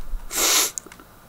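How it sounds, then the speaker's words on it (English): One person sneezes once, close and sharp, a breathy burst followed by a brief sniff, while suffering from a cold. "I'm going to sneeze again."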